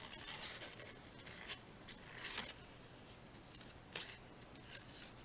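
Scissors making intricate cuts in paper for a handmade Mother's Day tag card, quiet close snips and crisp paper rustles in short irregular bursts.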